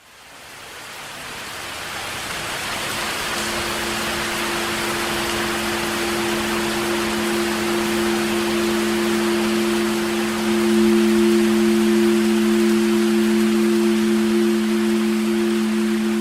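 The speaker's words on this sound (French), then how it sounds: "il pleut, il mouille vraiment beaucoup et c'est dangereux" Heavy rain pours in a dense, loud and continuous hiss that builds at the start, with a faint steady hum underneath and no voices.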